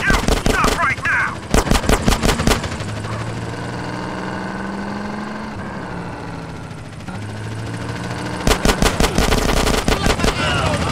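Video game gunfire in a GTA San Andreas drive-by from a Renault Toros car, loud rapid bursts of shots at the start and again near the end, with a car engine droning between them.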